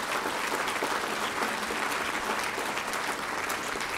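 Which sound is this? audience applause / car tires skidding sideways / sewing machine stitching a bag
audience applause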